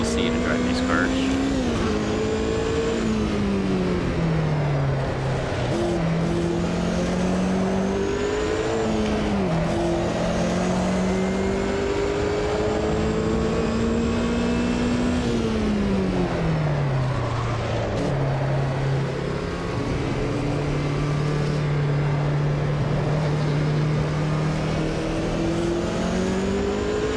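Group C race cars roar through a racing video game, engine notes rising and falling steadily through gear changes as the cars lap continuously, loud and unbroken throughout.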